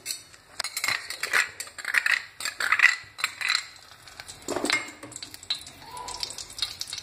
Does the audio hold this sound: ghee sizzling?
yes